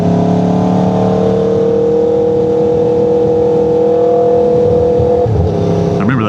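An Aprilia RSV4 Factory sport motorcycle idles along at low revs, giving a steady, close engine drone with a brief shift in pitch near the end.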